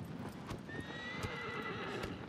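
The horse Agro in the video game Shadow of the Colossus, quick, faint hoofbeats in a steady galloping rhythm over a soft ambient background, with no talk.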